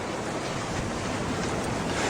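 Lake waves wash around a sailboat on Lake Michigan, a continuous broad surf-like hiss mixed with wind buffeting the microphone, steady and close.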